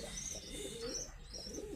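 Several pigeons in a loft with caged breeding pairs and newly hatched chicks keep up a close, continuous low cooing, with occasional brighter chirps layered on top.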